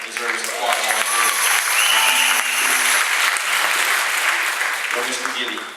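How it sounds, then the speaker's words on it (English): Sustained audience applause, a dense wash of clapping from a large crowd, with voices calling out and cheering over it throughout. "I think that deserves applause right there."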